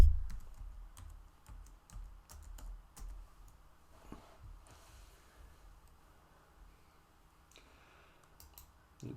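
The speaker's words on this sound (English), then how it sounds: "I'm going to type platinum in here." Close typing on a computer keyboard, a quick burst of key clicks that thins to scattered taps, with no talking.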